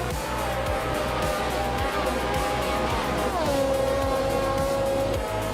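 A 1970 Lotus 72 Formula One car in a racing video game drones at high revs, loud and continuous, its engine note dropping once as it shifts gear and then holding steady with tyre noise underneath.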